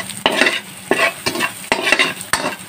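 A spoon stirs coriander, cumin and other spices into chicken macaroni in a sizzling pan, giving four or five rhythmic scraping strokes over steady frying.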